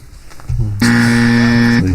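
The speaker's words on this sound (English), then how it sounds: "Find my buzzer here." Game-show buzzer pressed once, a loud, close, steady electronic tone lasting about a second and cutting off abruptly.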